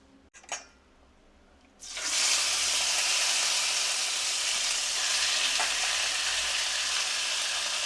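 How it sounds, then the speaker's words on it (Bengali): Chicken pieces dropped into hot oil seasoned with kasuri methi, preceded by a brief clatter, then a loud, sustained sizzle and crackle of frying that holds steady throughout. "তেলটা গরম হয়ে গেছে, ফোড়নের গন্ধটা বেরিয়ে গেছে। এবার আমি চিকেনটা দিয়ে দেবো।"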